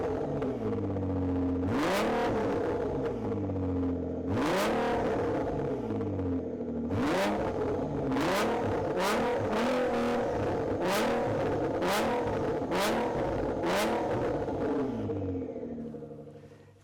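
A Nissan Skyline GTR engine revs repeatedly, about nine sharp throttle blips rising and falling over a steady idle rumble, loud and close, spaced irregularly with a fast burst in the middle before the idle fades.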